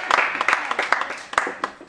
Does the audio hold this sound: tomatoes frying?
no